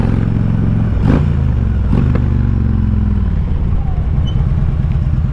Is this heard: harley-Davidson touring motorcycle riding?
yes